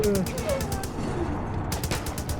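Rapid automatic gunfire in the video game Far Cry 5, dense bursts rattling steadily over a busy game soundscape, loud and continuous for a couple of seconds.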